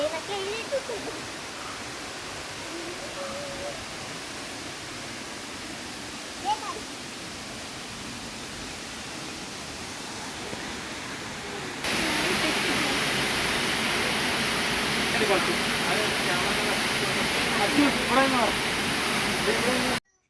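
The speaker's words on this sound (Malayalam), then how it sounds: "ഇവിടെ നല്ലൊരു അടിപൊളി വെള്ളച്ചാട്ടം ഉണ്ട്" A waterfall beside a rough, risky trail roars as steady broadband noise throughout, growing clearly louder and nearer partway through, with faint voices now and then in the background.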